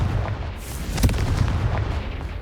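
A Confringo blast spell detonates in the video game Hogwarts Legacy, a dense, loud booming explosion with a sharp burst near the middle, heard alone without talk.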